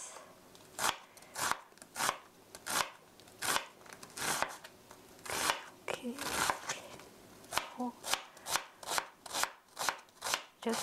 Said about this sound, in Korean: 이렇게 하면 양파를 금방 다질 수 있어요.